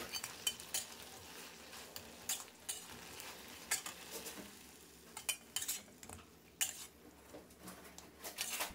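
Crispy fried tilapia pieces stir-fried with Chinese celery in a pan, giving a steady low sizzle with repeated scraping and clinking strokes of a utensil against metal, close and moderately loud, no talking.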